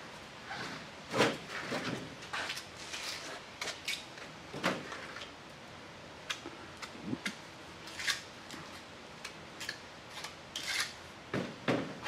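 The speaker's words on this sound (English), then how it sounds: "just make a mark on it, and then cut that with your saw" Hand saw cutting through a brick block used to line an evaporator, with a series of short rasping strokes, close and moderately loud, alone with no talk.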